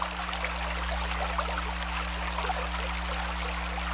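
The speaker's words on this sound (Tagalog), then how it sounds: "Ito na yata yung pinakamagandang waterfalls na nakita ko sa buong Pilipinas." Steady rushing and trickling water from a waterfall in the Philippines, a constant close wash of flow with a low hum underneath and no voices.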